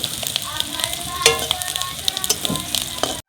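Fish roe fritters sizzle loudly in a pan of oil as a utensil scrapes and turns them, the crackling steady with scattered clicks and taps, no voices.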